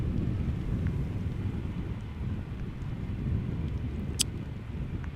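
A KLM Embraer E195-E2 jet departs Amsterdam Schiphol Airport as a low, distant rumble mixed with wind buffeting on the microphone, fairly steady in level with no clear build.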